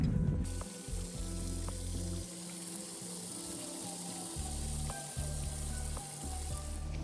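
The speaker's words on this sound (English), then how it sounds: "So now that the water is being filled, it's gonna take a while." Water pours steadily into a container in a horse barn, a continuous hissing rush with a few low knocks and clanks, no talking.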